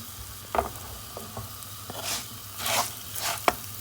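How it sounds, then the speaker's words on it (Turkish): Rice grains toasting in a pan on a large stovetop burner for Turkish rice pilaf, with several short scraping stirs over a soft, steady sizzle, close and moderately quiet. "Evet pirinçlerim şöyle kavruluyor."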